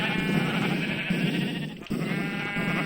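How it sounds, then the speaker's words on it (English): Sheep in Minecraft bleating, a loud, close, sustained wavering baa that fills the clip, with a short break partway through before the bleating carries on, with no talking. "So in this case, it's to shear the sheep."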